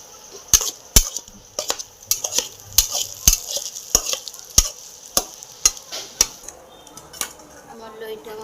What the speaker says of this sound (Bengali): এটা মিনিট 15 নাড়তে হবে এরমভাবে, যাতে জিরো হয়।